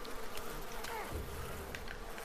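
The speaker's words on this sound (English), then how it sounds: "Oh god, bees! Oh bees my god." A swarm of bees buzzes in the video game Far Cry 5, a steady, fairly faint insect drone that holds throughout with a few light clicks and no speech.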